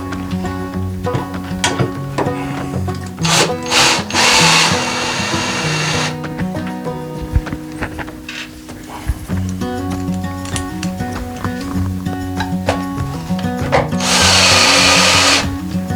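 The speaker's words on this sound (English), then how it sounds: "we can just screw this thing in with the screws that came provided with it" A power drill drives screws into pantry shelving, its motor whirring steadily and loudly in repeated bursts, close by, with no talk.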